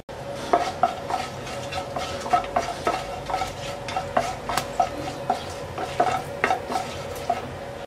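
Dry chillies, a bay leaf, whole cumin, cloves and black peppercorns sizzle in hot oil for a green moong dal bhuna, a steady crackle punctuated by repeated sharp clinks of a spoon stirring against the pan, no voices.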